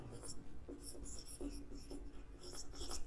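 Marker or chalk strokes on a board during a maths lecture on angle measurement, short hissy scratches in quick bursts, close and fairly soft, with low background murmur.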